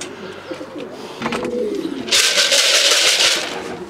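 Racing pigeons coo softly at their loft after a long-distance race, with low murmuring calls and a sudden burst of rustling or wing flapping that is close and fairly loud.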